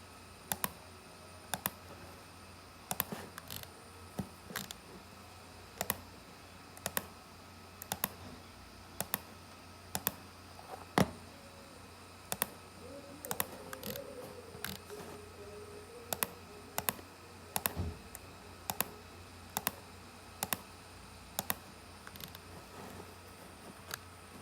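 Sharp computer mouse clicks sound during structural modelling of a three-bedroom house design, spaced irregularly across a quiet room, faint and close, with no one talking.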